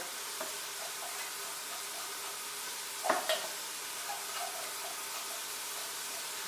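Onions and vegetables being stirred in preheated oil in a quick cooker, a faint steady sizzle with a brief scraping clatter of the spoon in the middle.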